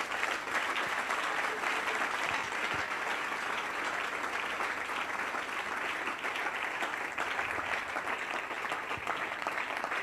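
A church congregation claps in sustained, dense applause that stays even and loud throughout, with a faint murmur of voices underneath.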